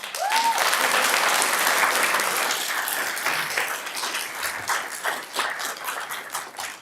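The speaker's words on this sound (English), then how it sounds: "I really am going to ask you to keep the applause down." A city council meeting crowd claps loudly at first, then the applause thins into scattered claps and fades over several seconds.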